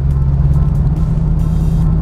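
A Dodge Hellcat Challenger heading to a cruise-in, its engine a steady, deep low rumble from inside the car, constant and unbroken with no talk over it.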